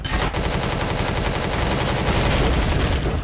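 Rapid, continuous gunfire rattles steadily and loudly throughout, the shots coming from the Empyrion Galactic Survival video game during an assault on an enemy alien base.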